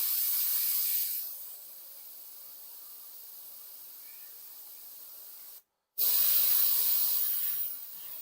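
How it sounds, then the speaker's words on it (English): Airbrush spraying paint over a stencil on a Cowboys football helmet, a steady close hiss in two bursts with a brief silent gap between them. "Your airbrush isn't working great,"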